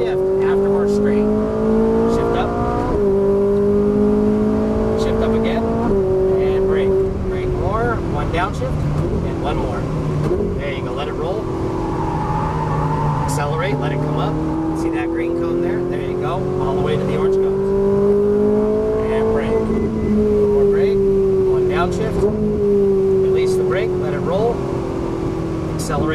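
A Ferrari 458 on a racetrack repeatedly accelerates and then lifts off to coast, its engine note rising and falling steadily from inside the cabin while an instructor talks over it throughout.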